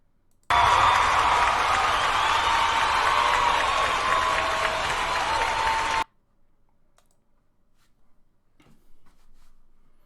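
Canned applause sound effect played during a live stream, a dense burst of clapping and cheering for about five seconds that cuts off abruptly into near silence.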